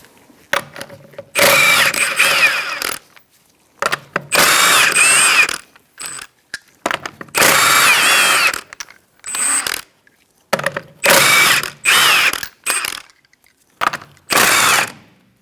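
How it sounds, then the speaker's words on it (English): Lug nuts come off the rear wheel of a 2004-2009 Mazda 3 with a 21mm socket, in repeated loud, close bursts of a power tool whirring and rattling, broken by brief pauses and faint clicks, with no talking. "Using a 21mm socket, we're going to remove our lug nuts to remove our wheel"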